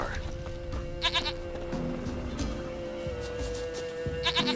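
Goat bleats from Witcher 3: Wild Hunt, a few short bleating bursts over steady in-game music and ambience, with a voice talking in between.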